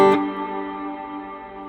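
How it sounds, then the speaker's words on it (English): A guitar note rings out through a preset on a Flamma FS02 reverb pedal, with a short sharp attack and then a long, smooth, shimmering reverb tail that fades slowly. "There's quite a lot of reverb on that."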